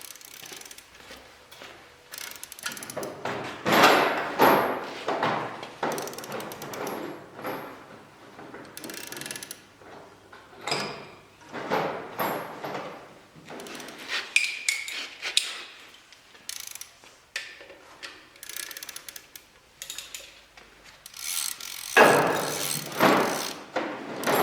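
Bolts tightened on an LS cylinder head with a ratchet, a run of close, metallic clicking and clanking bursts spread unevenly, with gaps and occasional knocks of tools between them.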